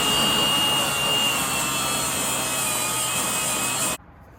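A steady, loud abrasive whir of sanding on the brake mating surface of a 2004 Pontiac GTO front hub, continuous for about four seconds before cutting off abruptly.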